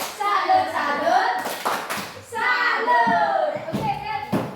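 A class of seventh-grade pupils clapping hands in a classroom, two short bursts of applause mixed with children talking and shouting over it.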